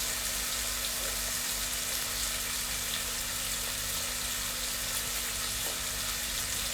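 Mustard paste frying in a prawn curry gravy over high heat, a steady close, continuous sizzle with a faint low hum underneath and no talking.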